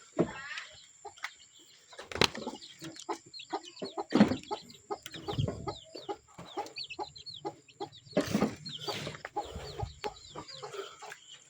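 Chickens on a small farm cluck and squawk in a busy, irregular chorus, with several loud nearby calls and occasional bursts of wing flapping, and no speech.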